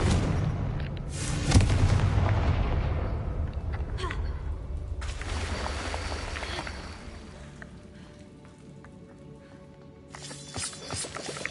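A Confringo fire spell goes off in Hogwarts Legacy with a loud booming blast and rumbling roar, followed by a softer crackling stretch and a second surge near the end.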